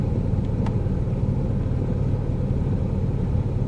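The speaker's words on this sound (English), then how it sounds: "a couple cars went by, but there's not really much traffic" A road rumble of a couple of cars passing at moderate distance, a steady low drone with no clear peaks, heard from a roadside near a frozen waterway where a ship is stuck in ice.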